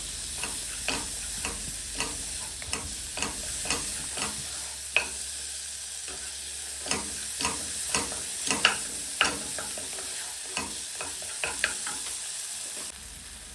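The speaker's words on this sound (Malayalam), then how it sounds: "തക്കാളി ചേർത്തിട്ട് നന്നായിട്ട് അത് മഷി ആവുന്നവരെ റോസ്റ്റ് ചെയ്യുക മീഡിയം ഫ്ലെയിമിൽ" Tomatoes roasting in a pan over a medium flame, with a steady sizzle broken by repeated sharp scraping and clicking stirring strokes that come at an irregular rhythm, close and moderately loud, with no talking.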